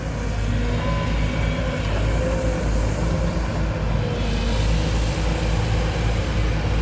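Excavator engines and hydraulic pumps drone continuously, a dense low rumble with a steady mechanical whine layered on top, no voices.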